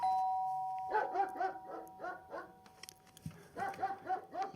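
A recorded dog-barking sound effect plays back as a run of sharp barks, alongside a clear ringing doorbell-like tone. The barks pause briefly, then continue.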